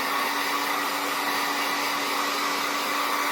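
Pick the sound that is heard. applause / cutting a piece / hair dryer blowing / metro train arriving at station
hair dryer blowing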